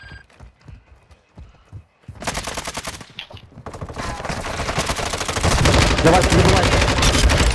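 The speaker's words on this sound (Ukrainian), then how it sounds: "Не знаю, чую, що стріляють." Gunfire in the video game Call of Duty Modern Warfare II starts as scattered shots, then becomes sustained rapid automatic fire that grows louder. Players talk over the first part.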